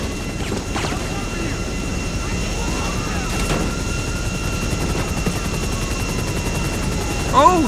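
In the GTA 5 video game, a helicopter's rotor drones steadily throughout a chaotic shooting scene, with gunfire and explosive bursts in the mix and a sharp crack near the end.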